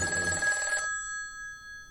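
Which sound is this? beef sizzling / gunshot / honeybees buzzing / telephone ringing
telephone ringing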